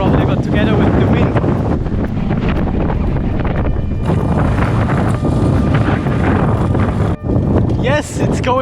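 Strong wind roars and buffets the microphone while sailing around a volcano, loud and constant throughout, with a voice speaking under the gusts.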